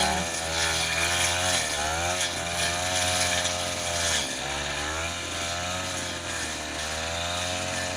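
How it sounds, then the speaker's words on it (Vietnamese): A two-stroke brush cutter cuts grass in a coffee plantation, its engine whining steadily and loudly close by, with slight dips and rises in pitch as the cutting load changes. "đây là máy phát cỏ cà phê"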